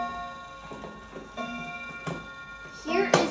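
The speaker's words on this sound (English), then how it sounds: "you can hear the chime if you want to." A grandmother clock ticks in a steady, quiet rhythm with faint sparse clicks, then a louder ringing chime swells near the end, heard close up indoors.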